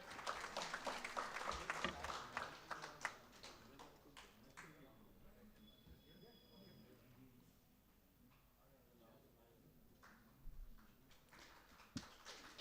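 Audience applause at a mushaira in Phulwari Sharif, Patna, welcoming a guest: a burst of clapping at the start that thins to scattered claps and low crowd murmur, with a few isolated claps later.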